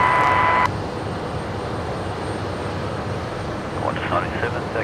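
A Qantas airliner taxis at Brisbane Airport during a cyclone evacuation, giving a steady, distant jet-engine rumble with a brief faint voice near the end.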